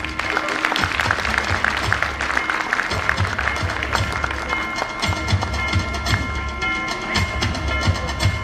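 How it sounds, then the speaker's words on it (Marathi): An audience claps loudly and steadily at a Konkan festival honour ceremony in 2025. The dense, continuous applause fills the whole stretch. "जोरदार टाळ्या व्हायला पाहिजेत."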